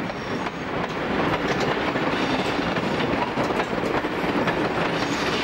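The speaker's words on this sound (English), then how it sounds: "October 1968 sees saturated version standard goods 5093 with an up coal train at Beresfield." A 'standard goods' steam locomotive hauls an up coal train at Beresfield in October 1968, heard as a steady loud rumble with clickety-clack of wagon wheels rolling past continuously, no voices.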